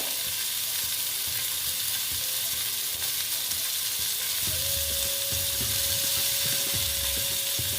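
Pointed gourd fries in a pan with a constant close hiss of sizzling oil, joined by faint rhythmic scraping and clicking from stirring.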